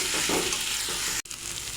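Phasa fish curry with coriander and chili powder and a splash of water, sautéed in a pan, giving a steady loud sizzle with stirring scrapes throughout, close up, no voices, broken by a brief cut near the end.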